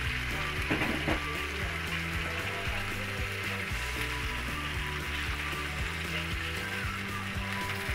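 Chicken pieces fry in a pan for chicken masala, giving a dense continuous sizzle with rhythmic stirring scrapes and clatter, close and loud, without speech.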